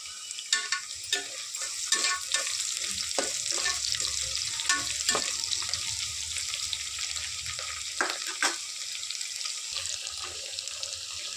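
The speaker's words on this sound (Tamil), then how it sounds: "இதில் கொஞ்சோண்டு பூண்டு தட்டி போட்டிருக்கேன், ஒரு 4 பச்சை மிளகா அத்தையை வதக்கிக்கலாம்" Onions, curry leaves, crushed garlic and four green chilies sauté in a pot for one-pot rice, a steady sizzle broken by repeated scraping and clacking strokes of a stirring spoon, close and fairly loud.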